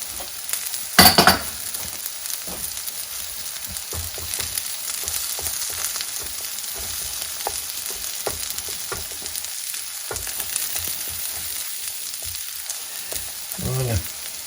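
Potatoes, onions and sausage slices fry in a pan over low heat, giving a steady close sizzle with occasional stirring scrapes and one louder clatter near the start.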